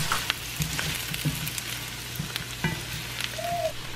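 Golden-brown potatoes pan-fry in oil with a steady, close sizzle and occasional light scrapes and clinks of stirring, no voices over it.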